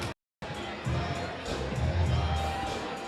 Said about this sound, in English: Yeah, good crowd tonight.